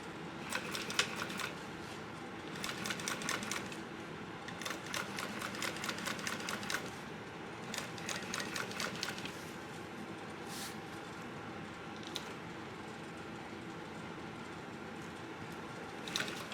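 A sewing machine stitching a bucket backpack runs in quick rattling bursts of several seconds each, separated by pauses, close and steady, with no talking.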